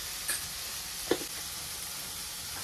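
Onion-tomato masala sizzles steadily in a frying pan while being cooked for an egg bhaji, a continuous quiet hiss with a couple of sharp clicks from the pan.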